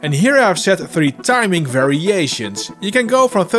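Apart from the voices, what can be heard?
None of the usual background noises is heard.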